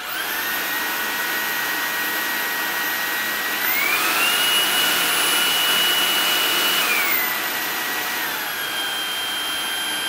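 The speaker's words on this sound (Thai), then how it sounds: "ในโหมดหนักเนี่ยก็จะเสียงดังเหมือนเครื่องดูดฝุ่นทั่วไปที่ผมเคยใช้มา" Samsung Jet 60 Turbo cordless vacuum cleaner running indoors with a loud, steady high-pitched whine and airy rush, stepping up in pitch and intensity partway through, then dropping back to its earlier level.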